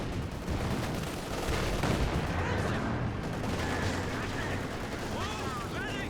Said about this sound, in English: MG opening fire, pushing back the infantry section.